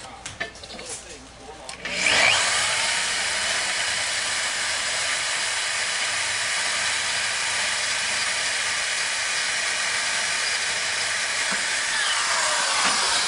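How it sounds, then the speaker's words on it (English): A big, high-torque power drill starts after about two seconds and then runs steadily and loudly without a break, a dense continuous whir that carries to the end. "especially if you have a big torquey drill like this"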